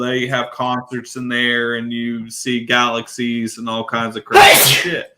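Someone talks steadily, then a single loud, explosive sneeze bursts out near the end, close by.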